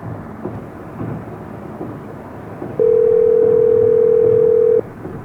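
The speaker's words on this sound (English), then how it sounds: "let's call Mike, my stepdad." A steady telephone dial tone sounds for about two seconds in the middle, loud and even, set against a low rumbling background while a phone call is being placed.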